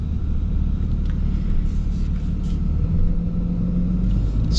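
Steady low engine rumble from a new Ram HD pickup with a Cummins diesel, heard from inside while driving, a continuous loud drone with no talking.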